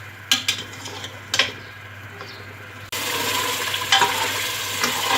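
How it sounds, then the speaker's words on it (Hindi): Mutton sizzling and being stirred in a pan with tomato and ginger, a steady loud frying hiss with occasional scrapes and clinks of a utensil against the pan, no talking. "अब हम गोश्त को अच्छी तरह से भून लेंगे।"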